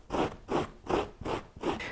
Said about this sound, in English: All right, this rasp is working just fine.